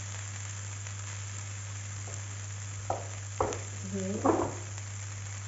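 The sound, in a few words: chicken sizzling as it is added to the biryani pot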